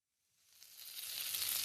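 Mirepoix hits a heated pan of fond on a stove. A bright, hissing sizzle grows from silence and keeps rising to a steady, close crackle.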